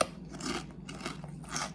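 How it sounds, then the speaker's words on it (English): Homemade kettle cooked potato chips crunching in a series of close, sharp bursts, several bites and chews with short gaps between them, fairly quiet overall. "They've got that really hard, shattering crunch that we all love in kettle cooked potato chips."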